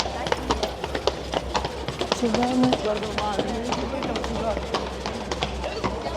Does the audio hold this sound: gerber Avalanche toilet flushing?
no